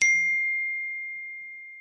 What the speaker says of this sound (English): So, this is my test notification, and let me see what message I received.